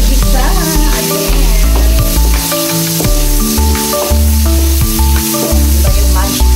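Chopped onions sizzle in hot oil in a pan on the stove, a constant crackling hiss partly covered by loud background music that runs through the whole stretch.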